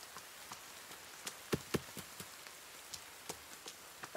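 Rain in the video game The Forest, heard as a steady quiet patter with scattered sharper drops landing irregularly on surfaces, no voices over it.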